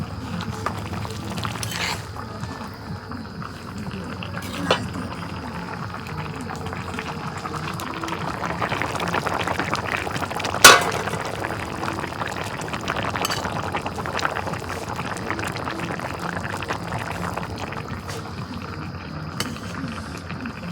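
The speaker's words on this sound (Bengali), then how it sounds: "তরকারির বলক উঠছে" A pot of curry bubbles at a rolling boil, a steady low burble with a few sharper clinks and knocks, close by and without speech.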